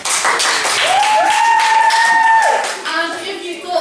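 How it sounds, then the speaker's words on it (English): A theatre audience at a drama workshop bursts into loud, sustained clapping and cheering, with a raised voice or whistle ringing over the applause before it tapers off. "So, if you thought Georgie was the most important person in the scene, clap and cheer and clap"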